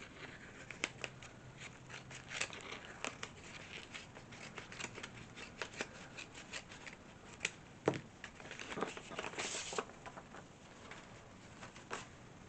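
Paper crinkling and tearing as a mailed package is opened at close range, with scattered sharp rips and rustles, one louder tear near the middle and a steady burst of crumpling toward the end.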